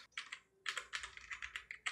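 Typing on a computer keyboard nearby, a quick run of light key clicks in uneven bursts with a brief pause near the start, fairly quiet and without any talk.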